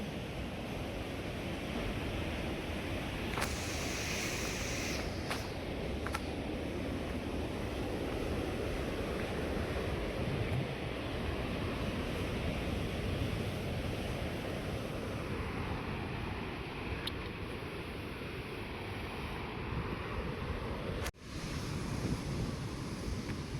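Sea waves crashing against rocks at Hedvi beach near the Bamanghal rock cleft on the Konkan coast, a continuous loud roar of surf with wind buffeting the microphone, steady for the whole stretch.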